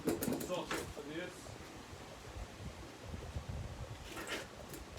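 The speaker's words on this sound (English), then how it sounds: "there is a lot of wind going on" Steady wind rumbles and buffets the microphone, a low rushing noise throughout, with a person talking briefly at the start and end.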